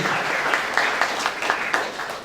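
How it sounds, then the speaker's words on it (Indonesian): Church congregation at a Christmas service clapping, a lively crowd applause with clearly audible individual rhythmic claps running through the whole short stretch, loud and close. "Yang setuju tepuk tangan panjang dari lagi"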